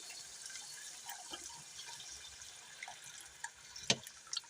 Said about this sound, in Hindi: 1 कप पानी ऐड करेंगे